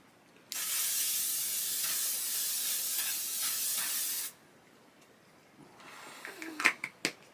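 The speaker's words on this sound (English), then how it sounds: "this is a really good setting spray. So we're going to lock this look in" Makeup setting spray hisses from a pump bottle in one steady, close burst of about four seconds, followed by quiet room sounds and a few soft clicks.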